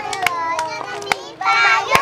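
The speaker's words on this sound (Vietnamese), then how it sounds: "Tèo vỗ tay ca đi." A small child claps hands at home in a loose, uneven rhythm of sharp close slaps, while a child sings along and adults speak encouragingly in the background.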